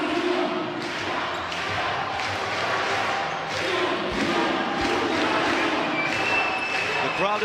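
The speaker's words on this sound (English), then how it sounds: "The crowd is into this, that's for sure." Crowd noise at a FIBA 3x3 U18 Europe Cup basketball game in Debrecen, Hungary, a steady roar of spectators with occasional ball bounces and thuds, while a commentator talks over it.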